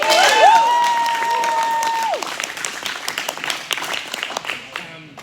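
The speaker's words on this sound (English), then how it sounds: "let's clap it out" A group bursts into applause, with a rising whistle cutting through at the start before the clapping continues and gradually thins out.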